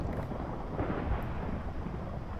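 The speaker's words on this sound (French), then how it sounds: "On entend là, un petit orage" A thunderstorm in the Minecraft video game rumbles as low, continuous thunder, fairly faint and steady, with no voices over it.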